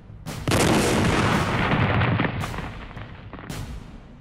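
A huge explosion at a wartime celebration ceremony erupts suddenly and loudly, a sustained roaring blast with crackling debris that slowly decays over several seconds, with a second burst near the end.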